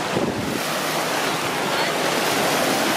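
Ocean waves wash steadily onto a beach with dirty water, a loud continuous roar of surf mixed with wind buffeting the microphone.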